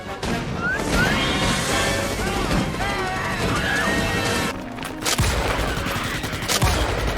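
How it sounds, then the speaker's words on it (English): Rapid bursts of Emancipator gunfire in Starship Troopers Extermination, dense repeated shots with impact crashes and a brief pause before firing resumes, loud and close. "the sound and kick to the gun makes the experience of dumping those rounds into the arachnids just that little"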